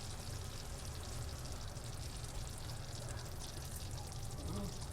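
A pot of homemade Southern collard greens simmering for hours makes a steady, dense bubbling hiss that stays even and close throughout, with no clear pauses or talk.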